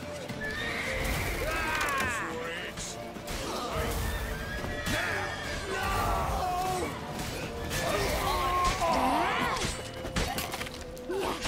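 Horses in a fantasy-game street chase neigh and whinny repeatedly over fast hoof clatter, with crashing and shattering sounds and shouting voices in a busy, loud scene.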